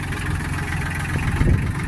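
A Solis 26 Extra tractor in good, checked working order idles steadily, its low engine rumble continuous and even throughout, with no voices over it.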